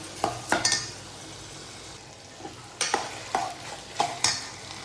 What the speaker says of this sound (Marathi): तांदूळ आपण सगळं मिक्स करून घेतलेला आहे छानपैकी